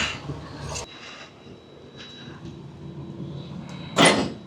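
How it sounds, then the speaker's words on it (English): Semi truck trailer tandems slide and the trailer door locks: a broad, steady mechanical rumble with a thin whine runs underneath, broken by a sharp metallic clunk near the start and a loud bang near the end. "let's go slide our tandems, lock our door"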